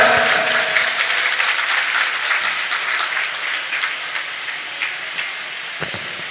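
Audience applause at a religious gathering, a dense continuous wash of many hands clapping, loud and sustained throughout, slowly thinning toward the end with a few scattered claps.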